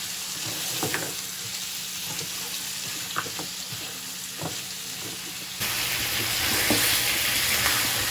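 Beef frying with onions in a karahi-style pan for achari gosht, a steady close sizzle and hiss throughout with occasional stirring scrapes, growing slightly louder near the end, with no talking.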